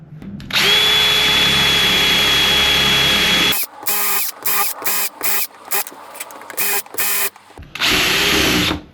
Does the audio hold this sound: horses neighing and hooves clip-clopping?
no